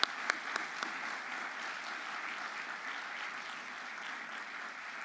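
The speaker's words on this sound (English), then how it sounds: "let's give them a big round of applause for all the organizing" An audience applauds the organizers at the closing of the Allen Crocker Award event: a few sharp claps open into steady, dense clapping that holds evenly for several seconds with no voices on top.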